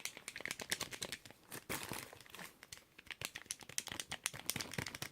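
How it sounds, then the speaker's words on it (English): Rapid, irregular plastic clicking of NES Classic Mini controller buttons and D-pad, dense and close up, with quick crisp taps tumbling over one another for several seconds. "It's got this like original clicking sound."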